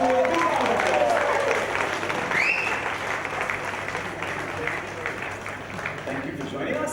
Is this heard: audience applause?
yes